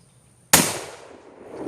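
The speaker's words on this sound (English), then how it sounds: "They're black powders, and so she's going to fire it all 6 times." A single sharp, loud gunshot from a .44 caliber black powder revolver, close by, followed by a decaying echo with no speech.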